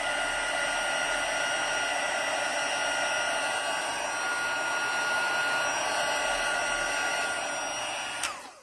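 A heat tool blows steadily while melting silver embossing powder on a Christmas card, a loud constant close-up roar lasting several seconds before switching off at the end.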